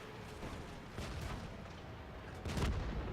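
Heavy cannon shots from a Centurion Mk I tank in a tank battle game boom out amid rumbling engine and battle noise, with a louder, closer blast near the end.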